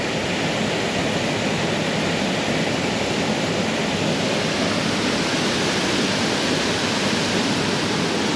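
Constant roaring rush of a waterfall near Ordu, Turkey, heard close up as a steady, loud, broadband wash of falling water with no breaks or voices.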